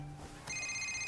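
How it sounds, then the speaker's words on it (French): Telephone ringing indoors: a steady bright electronic ring begins partway through and continues to the end, fairly close and clear over a quiet background. "Laissez ce téléphone tranquille. Laissez sonner."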